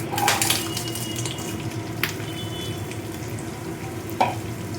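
Cut, washed potatoes frying in a kadai for aloo posto, a steady close sizzle with a few scraping stirs.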